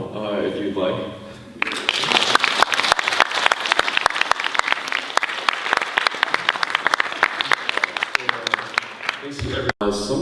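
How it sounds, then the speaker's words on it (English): An audience applauds after a presentation, a dense burst of clapping that starts abruptly after brief speech and sustains loudly for about eight seconds before cutting off, with a voice returning at the end. "You guys can clap now if you'd like."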